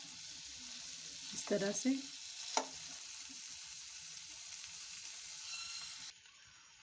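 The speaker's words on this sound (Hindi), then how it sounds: "फोक की मदद से हम इसके छोटे छोटे पीस कर देंगे" Chicken shawarma sizzles steadily in a pan while a fork cuts it into small pieces, adding a few close scrapes and clinks. A voice speaks briefly, and the sizzle drops off abruptly near the end.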